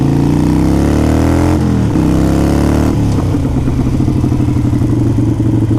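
A Harley-Davidson 883 Iron motorcycle engine running close by, a loud lumpy V-twin rumble that revs up, drops and swells again with rising pitch, then settles into a steady throbbing pulse.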